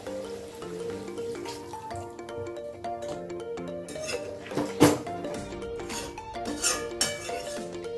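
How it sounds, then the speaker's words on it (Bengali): Water poured into a cooking pot for a taro stolon and fish dish, with clinks and clatter of metal utensils, soft splashing and dripping, close but fairly quiet, a brief louder pour-like burst near the middle, no talk. "একটু জল দিয়ে দেবো"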